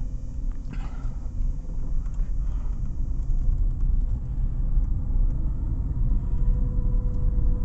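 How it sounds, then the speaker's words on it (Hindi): A car engine as the car begins to move slowly forward: a low, continuous rumble that holds steady and close throughout, with no talking. "अभी मेरी जो गाड़ी है धीरे धीरे मूव होने लग गई है।"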